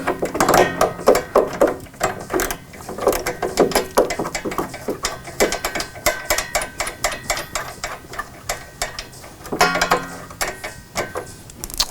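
A ratchet wrench loosening bolts on an arcade cabinet being stripped, rapid rhythmic clicking in close bursts with short pauses, loud and near, no voices.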